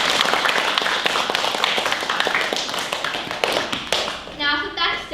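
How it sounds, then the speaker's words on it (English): An audience at a Year 5 and 6 school play of "The Twits" claps in a dense, steady burst that tapers off, then a voice speaks near the end. "So give a big round of applause to Savannah, Sienna, Joshua,"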